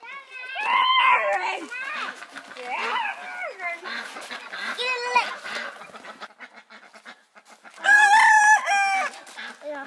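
A rooster crows at a family home, with several drawn-out calls and a loud, close crow near the end, while voices and other sounds carry on around it.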